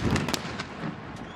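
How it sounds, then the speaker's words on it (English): A cannon booms at a college football stadium as halftime begins, one loud close blast with a short crackling tail over steady crowd noise. "That cannon gets me every time."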